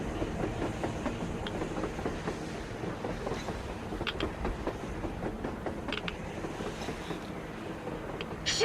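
A train rolls along rails in the post-apocalyptic game Metro Exodus, with a steady rumbling roll and rhythmic clickety-clack and creaking carriages, metallic squeals cutting through now and then, loud and close throughout.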